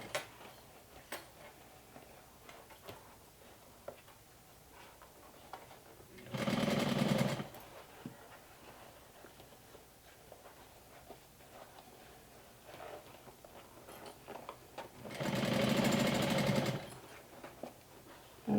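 A sewing machine stitches a mini top hat in two short, loud, rapid whirring bursts of about a second each, separated by quiet stretches with faint handling clicks.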